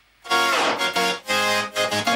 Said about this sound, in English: So it just like pitches down and slows it down. It's basically what a tape stop effect